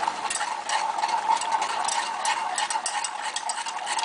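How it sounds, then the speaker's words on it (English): Egg mixture being stirred steadily in a hot pot, a continuous close scraping and swishing with faint ticking of the utensil against the sides and no talk. "And you just want to keep stirring, and it's really hot."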